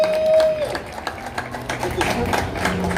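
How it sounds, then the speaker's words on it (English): Audience applause at the Feast of San Gennaro in Little Italy, New York, a brief burst of clapping from a crowd with a voice speaking over it. "Let's have an applause"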